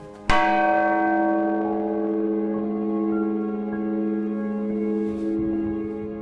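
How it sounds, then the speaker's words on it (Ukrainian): The largest bell of the Church of the Nativity in Pidhiria village, Prykarpattia, Ukraine, strikes once, deep and resonant, its long humming overtones slowly fading and swelling for several seconds. "особливе, унікальне звучання у найбільшого дзвона"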